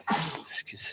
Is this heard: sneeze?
yes